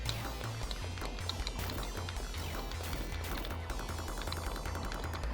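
Rapid gunfire in a Sega Genesis video game, a quick string of sharp synthetic shots over a pulsing electronic music track, moderately quiet and continuous.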